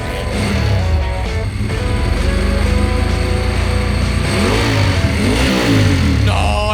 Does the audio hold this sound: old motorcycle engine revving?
yes